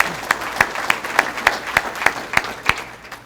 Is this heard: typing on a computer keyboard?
no